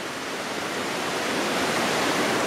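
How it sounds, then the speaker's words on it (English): Steady rushing water from a stream flowing past a campsite on a hiking trail, a continuous broadband wash that swells slightly louder toward the end, close by with no voices. "a beautiful running pool of water right next to it"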